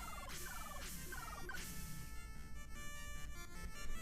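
Chiptune bird squawks from the NES game Dr. Jekyll and Mr. Hyde, several quick descending electronic chirps repeating in a row, then fading into beeping game music with no talk.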